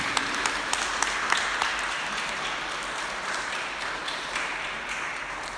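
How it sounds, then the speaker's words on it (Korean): Sunday church service congregation claps in welcome for a newcomer, a few sharp individual claps at first giving way to sustained, moderately loud applause throughout. "박수로 환영해 주시기"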